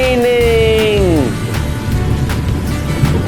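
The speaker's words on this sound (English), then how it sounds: "Oh no, it's raining." Rain falls in a children's cartoon about numbers and shapes, a steady broadband hiss that runs throughout, with sliding whistle-like tones early on and a voice over it.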